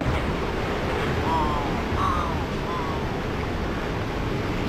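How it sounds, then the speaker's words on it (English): Loud, continuous rushing water in a video game (Legacy of Kain: Blood Omen 2) fills the scene like surf or a torrent, steady and overpowering, with faint tonal chirps briefly above it. "we can listen to loud water noise"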